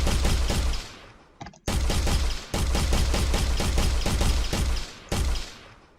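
Homing missiles fire repeatedly in a video game scene, producing loud, dense volleys of rapid crackling blasts in three or four bursts, each separated by a short gap or fade.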